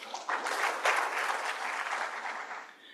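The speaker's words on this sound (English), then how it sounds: "You could please clap for yourselves." Audience applause at an economic forum's closing session, a steady burst of many hands clapping for about three seconds that fades toward the end.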